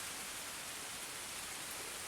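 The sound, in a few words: heavy rain heard from inside a cave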